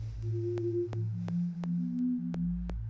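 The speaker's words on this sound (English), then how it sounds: "it's just a sine wave that's like a pluck" A sine-wave synth pluck runs through an arpeggiator, stepping through a rising and falling pattern of evenly timed notes with crisp attacks, clean and alone.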